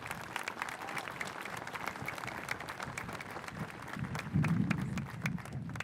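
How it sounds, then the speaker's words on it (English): Steady, fairly faint applause from a large audience at the Manasquan High School 2024 commencement ceremony, honoring the school technology staff. The clapping runs throughout with no break. "So, a round of applause for them, please."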